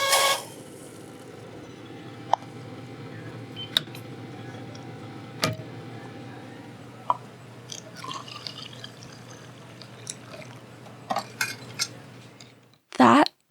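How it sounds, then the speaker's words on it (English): Coffee being prepared for a Tim Hortons Double Double at a busy counter, with clinking cups and cutlery, sharp taps and drips over a steady low machine hum, ending in a louder burst of clatter. "That is the sound of the Canadian classic, the Double Double, being made."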